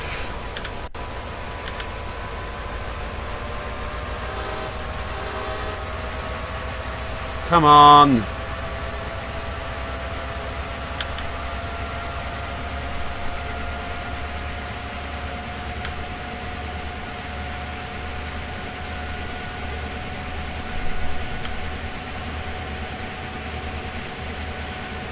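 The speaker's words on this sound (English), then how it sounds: "Sounds like a HST." An HST train engine in Train Simulator World drones as a steady low mechanical hum with faint tonal whine, a brief louder burst partway through, while people talk over it.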